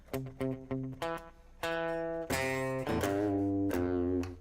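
Clean electric guitar run through a Fractal FM3 with a slapback echo effect, played for a country-style tone: a few picked single notes with short repeats, then sustained ringing chords, fairly loud with no talking.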